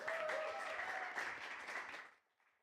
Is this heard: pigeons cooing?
no